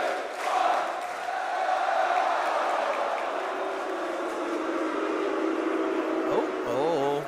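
A large crowd at an esports match boos in a sustained, rumbling roar that holds steady throughout, with a rising whistle-like call near the end.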